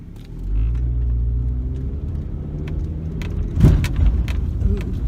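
A car drives along a road full of potholes, its steady low rumble broken near the middle by a sharp jolt and rattle as a wheel drops into a pit.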